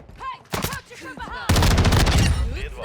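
Tempus Razorback rifle fire in a first-person shooter video game, a few short bursts early, then a loud sustained automatic volley in the second half, close and punchy.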